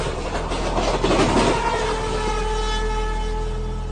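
A train passes along a railway line close by, making a steady, loud rumble with a rolling clatter of wheels that peaks briefly and then carries on evenly.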